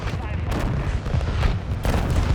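Video game artillery barrage with dense overlapping booms and gunfire-like blasts, loud and continuous, with heavier hits near the start and end and game radio voices faintly mixed in.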